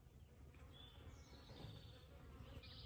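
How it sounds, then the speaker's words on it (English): Bees buzz softly and continuously in an outdoor vegetable garden with bell pepper plants, several faint wingbeat drones rising and fading over a quiet background hum. "Lots of bees out here."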